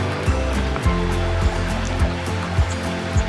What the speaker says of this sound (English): now down here you can hear a water lapping